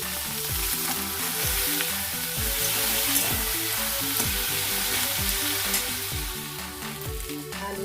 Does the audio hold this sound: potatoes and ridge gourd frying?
yes